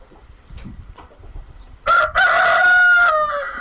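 A rooster crows loudly and close, one long drawn-out call after some quiet clucking and faint background noise.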